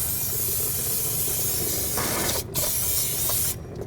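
Cleaner sprayed onto the mating surface of a differential on a 1992-2000 Chevy Tahoe during front CV axle replacement: a steady close hiss of spray running for several seconds, with short pauses, no talk.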